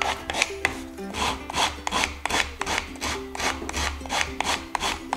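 A chisel or plane shaves wood at an angle while a wooden butter case is being built, producing steady rhythmic rasping strokes, about a dozen close, loud passes in a regular back-and-forth cadence with no talking.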